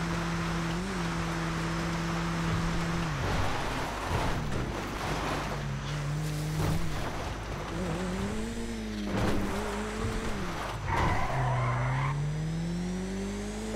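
A car in a roleplay video game drives with a steady engine drone and repeated tire squeals and skids, rising and falling in pitch as it corners, close and prominent, with no talk.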